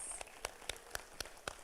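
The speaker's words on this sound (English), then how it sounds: "One more quick round of applause for the fall phlebotomy students." Applause at a healthcare pathways recognition ceremony honoring phlebotomy students: faint, sparse clapping with a steady rhythm of distinct claps roughly every quarter second, heard at a distance.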